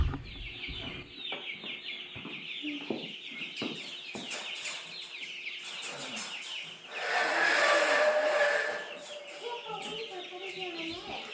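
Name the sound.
chickens clucking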